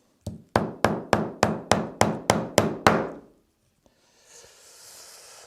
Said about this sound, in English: it makes it much easier to hammer these little things in